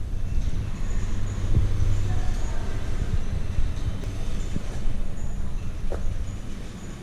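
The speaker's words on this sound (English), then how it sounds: "Does this move at all?" Inside the Cannon Mountain aerial tram in New Hampshire, a steady low mechanical rumble and hum runs throughout, with occasional faint clicks and creaks.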